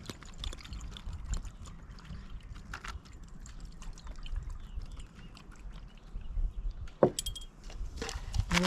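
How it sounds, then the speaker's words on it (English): Water trickles and pours from a watering can onto freshly seeded soil packed into a pot, a soft, steady splashing and dribbling up close with faint clinks, ending in a sharper splash. "We're going to water it."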